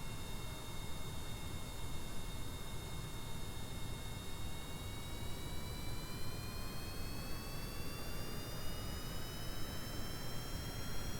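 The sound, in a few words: rocket engine firing in Kerbal Space Program video game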